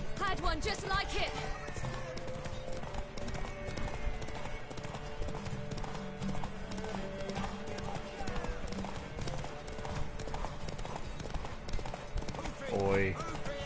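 Rhythmic hoof clip-clops from a horse in The Witcher 3 run steadily through a busy game soundscape, with music and voices layered over them.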